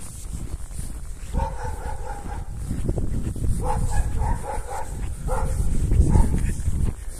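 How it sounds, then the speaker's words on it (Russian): Several dogs barking outdoors in a village in winter, with bursts of repeated barks at a moderate distance over a rumbling ambient background. "Собаки. Повсюду собаки."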